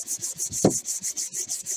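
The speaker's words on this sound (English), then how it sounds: "And we'll sand the other side." Balsa model rocket fins for an Apogee Aspire rub on a sanding block in quick, even back-and-forth strokes, close and soft, with one brief louder thump midway.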